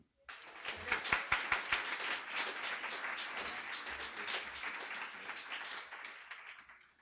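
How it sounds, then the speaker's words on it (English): Audience applause at a guide dog school graduation ceremony, a dense, steady crackle of many hands that fills the room from start to finish without fading. "a warm round of applause for Graham"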